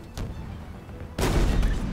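Gunfire in Halo Infinite during a Fiesta multiplayer match: a faint early pop, then a sudden loud burst of rapid shots that fills the last second, close and dense.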